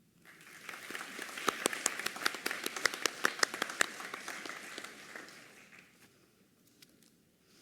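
A crowd at a nursing college convocation applauds MSN graduates and postmaster's certificate recipients, a dense burst of many hands clapping that swells, holds for several seconds, then fades out toward the end.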